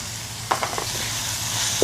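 Chopped frog meat tossed into a hot pan with fragrant garlic for a spicy Thai stir-fry, giving a soft steady sizzle with a few clatters of stirring, fairly close.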